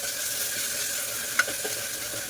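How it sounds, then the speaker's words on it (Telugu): Onions fry with ginger garlic paste in oil as the base for mutton curry, producing a continuous close sizzle with light stirring scrapes and one brief metallic clink partway through. "చూడండి, ఆనియన్స్ లైట్గా ఫ్రై అయిపోయినాయి"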